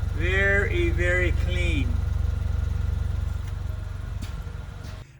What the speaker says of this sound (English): shot of the exhaust with the motor running